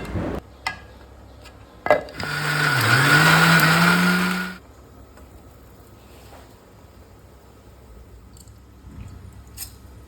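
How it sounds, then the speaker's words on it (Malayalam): A kitchen mixer grinder whirs loudly for about two and a half seconds while grinding soaked rice with water for batter. The motor rises and falls in pitch, then cuts off. Faint clatter from the kitchen follows. "ആവശ്യത്തിനുള്ളൊരു വെള്ളവും കൂടി ചേർത്ത് നമ്മളതൊന്ന് മിക്സിയുടെ ജാറിലിട്ട് അരച്ചെടുക്കാൻ കേട്ടോ"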